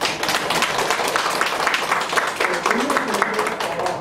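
Audience applause at a youth policy forum in Chungbuk on socially isolated young people, a steady dense round of clapping filling the room throughout.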